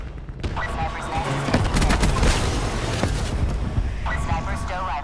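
Bursts of aircraft gunfire rattle out from a Mustang 1A in a combat sim, loud, dense rapid strings of shots over rumbling booms, with radio chatter layered underneath.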